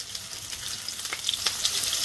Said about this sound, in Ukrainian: на сковорідку. Одна-дві хвилиночки і перевертаємо